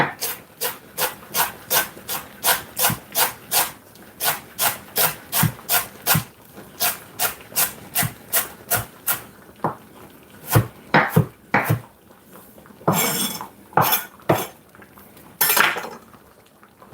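A knife chopping ingredients for Jamaican red peas and smoked meat soup on a board, with quick, evenly spaced taps that later turn irregular, plus a few scraping strokes near the end.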